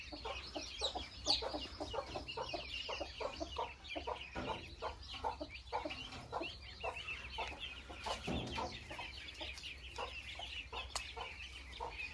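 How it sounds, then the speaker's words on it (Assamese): Local-breed domestic chickens clucking continuously in a poultry room where ducks are also kept, many overlapping soft clucks at moderate distance with a low background hum. "এই ৰুমটোত মই এতিয়া এনেকৈ মুৰ্গী পালন কৰি আছোঁ, লগতে হাঁহ পালন কৰি আছোঁ"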